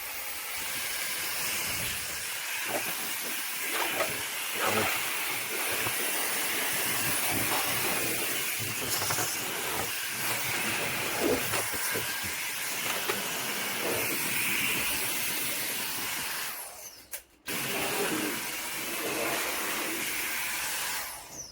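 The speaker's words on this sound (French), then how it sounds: "on va faire un test de ventilation pour voir un peu la concentration du flux, la puissance et le bruit qu'il fait" A K&F Concept 2-in-1 electric air blower runs steadily as a loud, continuous broadband hiss that holds for about seventeen seconds, cuts out briefly, then resumes at full strength.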